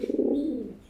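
A pigeon coos once, a short low throaty warble heard up close.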